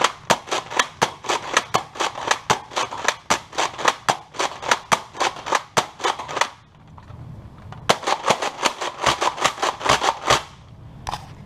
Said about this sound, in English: This is it with no stock, and I'll fire some shots as regularly and some slam fire.